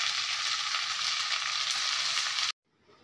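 Fish heads and ash gourd fry in a pan with a loud, dense, continuous sizzle that cuts off abruptly near the end, leaving only a faint hiss.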